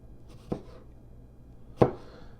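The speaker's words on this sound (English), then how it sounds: "Alright, we're chopping apples." Apples chopped with a large knife on a cutting board, two distinct sharp chops about a second apart, close and clear with no talking.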